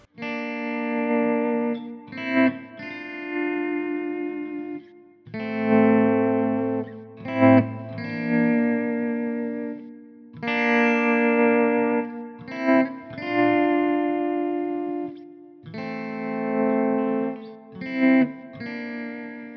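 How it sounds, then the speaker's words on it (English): Electric guitar notes swelling in from silence as the guitar's volume control is turned up, each phrase fading up gradually with an effected, slightly distorted tone and echoing tail. "playing the notes and then gradually increasing the volume control on the guitar"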